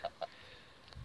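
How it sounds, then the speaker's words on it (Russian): Village chickens give two quick, close clucks in a farmyard where geese and ducks also roam, followed by quieter rustling. "Гуси, курочки, петушки."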